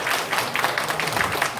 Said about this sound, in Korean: 우리 박수로 하나님께 영광.